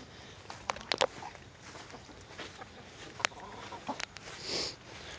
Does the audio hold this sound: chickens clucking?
yes